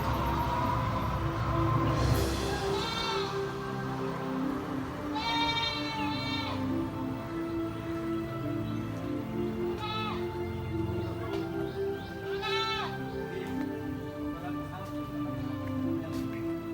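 Goats on a mixed farm bleat several times with wavering, drawn-out calls spread through the stretch, over a steady rumbling background with faint voices.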